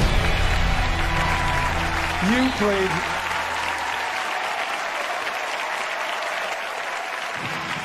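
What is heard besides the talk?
audience applause for Meat Loaf and Pearl Aday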